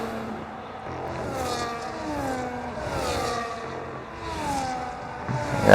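Formula 1 cars racing at the Japan Grand Prix, high-pitched engines rising and falling in overlapping waves as several cars sweep past and rev through a corner, loud and steady.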